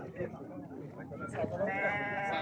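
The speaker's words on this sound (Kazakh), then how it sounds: "Жақсы қойлар." Sheep at a livestock market bleat, a drawn-out, quavering cry rising near the end over busy market background, with people talking nearby.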